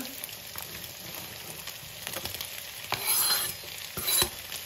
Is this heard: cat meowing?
no